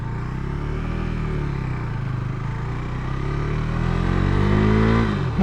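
A Yamaha XS650 motorcycle engine drones steadily while riding on a road, its pitch rising slightly toward the end as it revs up, close and continuous.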